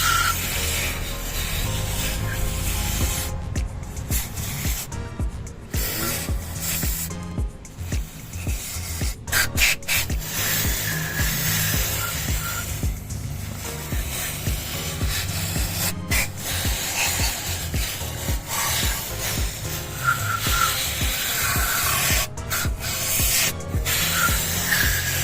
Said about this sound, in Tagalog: lipat lang ako sa kabilang side para mapukusan ko ito sa pag-spray para malinis talaga